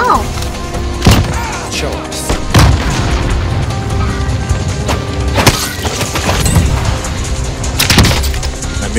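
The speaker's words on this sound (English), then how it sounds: "Flashbang out." A flashbang goes off in Warzone, a Modern Warfare battle-royale game, with several loud, sharp bangs and crackling impacts spread across a constant, noisy backdrop of game sound.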